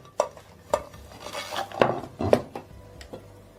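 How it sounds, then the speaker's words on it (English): A plate goes over a meatloaf pan and the two are flipped, giving a few close clinks and knocks of dish against pan amid light scraping and shuffling, with no talk. "Now I cover it with a plate and flip it over."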